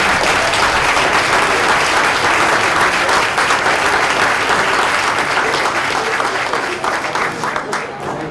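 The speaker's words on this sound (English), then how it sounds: "Huge round of applause." A crowd gives sustained, loud applause at a student athletes' letter-of-intent signing ceremony, with steady dense clapping that fades slightly toward the end.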